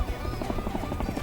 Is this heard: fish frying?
no